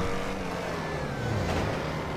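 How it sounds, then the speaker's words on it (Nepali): A motorbike approaching in the video game GTA V during a roleplay jewelry-shop robbery escape, a continuous engine drone with steady revving, fairly close and loud, without speech. "बाइक आइरहेको छ"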